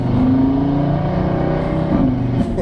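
Audi RS3 8V facelift revving in dynamic mode, a loud, close engine note rising and holding with a throaty drone, then dipping and surging again near the end.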